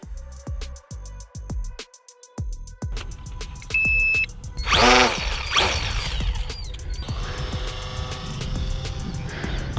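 An XK A260 Rarebear F8F RC warbird airplane's electric motor throttles up at launch, with beeps and short whirs rising to a loud high-pitched whine that then settles into a steady buzzing drone.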